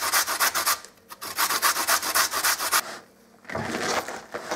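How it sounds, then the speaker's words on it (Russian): A carrot is grated on a coarse grater in fast, rhythmic rasping strokes, close and loud, with a brief pause between two bursts. "На крупной терке натираем морковку."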